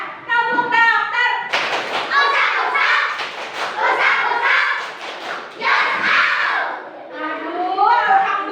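Young children in a classroom chant a rhythmic clapping game together, their voices loud and bright over quick, irregular hand claps and thumps.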